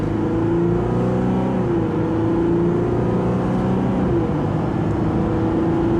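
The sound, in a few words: Ram 1500 EcoDiesel truck accelerating from launch to 60 mph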